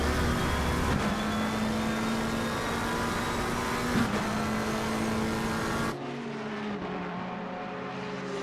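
Porsche and McLaren GT race cars at Monza in Assetto Corsa Competizione, loud sustained engine drone rising in pitch through the gears with an abrupt shift to another car's engine tone, no voices.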